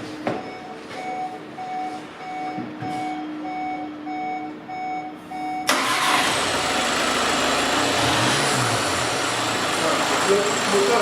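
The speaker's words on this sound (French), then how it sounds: "Donc là, je vais mettre le moteur en route." A VW Tiguan 2.0 TDI diesel engine starting abruptly after a series of repeated beeps, then idling steadily and loudly close by.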